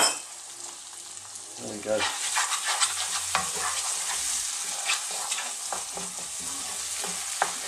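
Chopped tomato sizzles and fries in a vegetable masala curry pan with mushroom and zucchini, with steady frying hiss and repeated scraping stirs throughout, plus a brief spoken remark.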